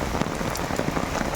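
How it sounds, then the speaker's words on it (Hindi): Heavy rain pours steadily on a roof or surface outside a studio, a dense, even patter with no voices. "स्टूडियो में बहुत बारिश हो रही है"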